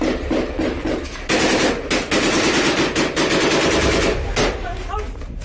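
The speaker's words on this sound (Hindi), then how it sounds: "गोलीबारी शुरू कर देते हैं।" Fighters of the Al Qassam Brigades firing on IDF positions in combat at Jabalia, with rapid bursts of automatic gunfire in dense strings that sound loud and close, plus single sharp shots and brief pauses.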